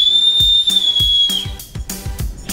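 A ship's whistle gives a long blast, a high, steady tone lasting over a second, over rhythmic low thumping music beats.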